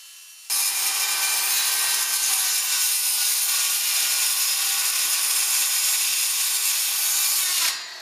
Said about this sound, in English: Now with your circular saw, you will cut out the two other rectangles.